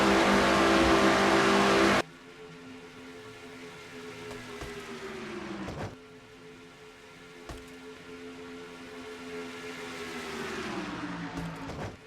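Stock car engine at Talladega in the NNSCRA Castrol GTX Cup Series, in a field that includes Chevrolets, screaming at high revs near 182 mph. A loud two-second burst drops into a steady, high, droning whine that sags briefly in pitch near the end.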